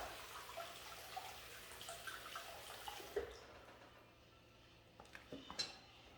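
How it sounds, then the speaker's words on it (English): A spatula rinsed under running water in a kitchen sink, faint trickling and splashing followed by a few quiet clinks and knocks of utensil against the basin. "let's rinse off my spatula here because I am definitely going to use it again"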